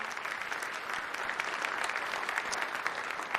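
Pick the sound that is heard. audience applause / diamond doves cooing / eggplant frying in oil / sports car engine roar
audience applause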